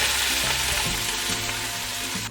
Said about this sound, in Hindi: इसमें मैंने कुकिंग ऑयल डाल लिया और साथ में मैंने 3 दरमियानी साइज़ की प्याज़ें इस तरीके से काट ली हैं और वो मैं इसमें डाल दूँगा